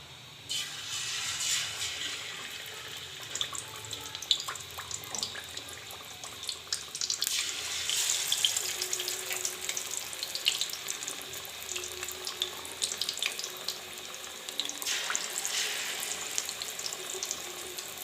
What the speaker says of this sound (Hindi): फिश को लो आंच पर फ्राई करेंगे।